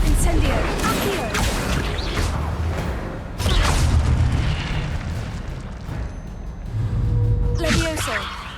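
Booming spell-casting blasts and magical bursts in the video game Hogwarts Legacy, several loud impacts in quick succession over rumbling effects, with voices calling out spells between the hits.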